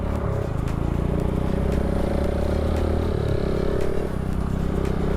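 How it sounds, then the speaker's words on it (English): A KTM RC 390 and a 150cc motorcycle ride together on the road, a loud, steady engine drone with rumbling wind noise, heard from close by as if on board. "My boy is on KTM RC 390 and here I am on a 150."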